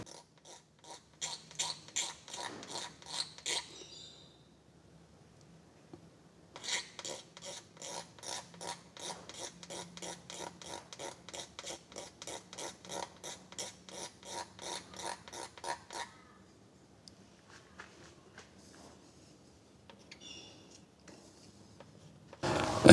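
Razor blade scraping body filler off a paint run on a car panel in slow downward strokes, a dry rhythmic rasping in two bursts of many close, even scrapes, then a few scattered light scratches near the end.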